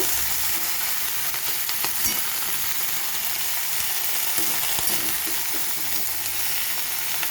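Spinach and stalks fry in a pan with a continuous loud hiss and crackle, while a spoon stirs the greens with occasional soft scrapes and knocks, close up.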